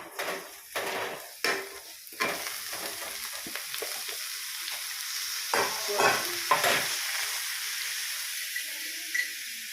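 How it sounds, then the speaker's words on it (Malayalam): Broccoli sizzles and fries in a hot pan, with steady hissing and several sharp bursts of stirring and scraping against the pan, fairly close and without talk. "ഇതിലേക്ക് നമ്മുടെ ബ്രോക്കോളി ഇട്ട് കൊടുക്കാം"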